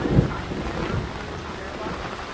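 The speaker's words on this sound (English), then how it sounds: "Man, intense thunder." A thunderstorm with heavy rain and strong winds in Carsland, Alberta produces a dull, rolling low rumble of thunder under a steady hiss of rain and wind buffeting the microphone.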